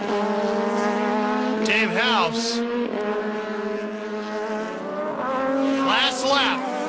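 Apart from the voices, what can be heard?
race car going off track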